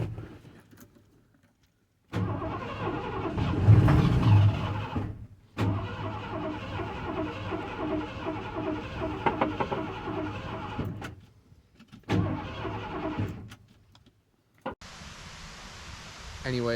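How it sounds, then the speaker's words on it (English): A 1987 Ford F-series pickup cranking over on a fresh battery, with a close starter-and-engine churn in long bursts separated by silent gaps, and brief speech in between. "I put a battery in it, and I was getting it to crank over."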